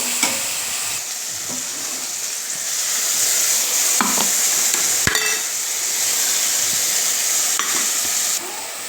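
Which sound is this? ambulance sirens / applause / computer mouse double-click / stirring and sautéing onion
stirring and sautéing onion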